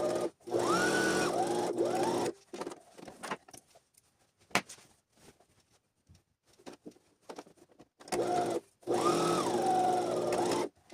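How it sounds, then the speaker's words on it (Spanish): A sewing machine stitches the back darts of a pair of trousers in two loud bursts of rapid mechanical whirring, the first at the start and the second near the end, separated by quieter handling, clicks and shuffling of fabric. "voy a empezar cosiendo las pinzas del pantalón trasero. Voy a coser las dos pinzas"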